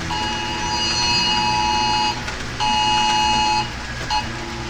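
An Amber Alert warning tone sounds as loud, steady electronic beeps in long on-off bursts over a low background rumble, with a short blip near the end.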